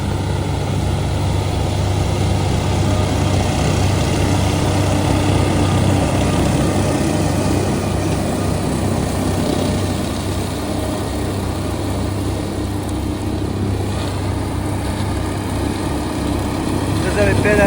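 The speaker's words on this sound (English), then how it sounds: "Out mowing and knocking my corn down." A riding lawn mower engine drones steadily and loudly while mowing, a continuous low rumble close by with no break for the whole stretch.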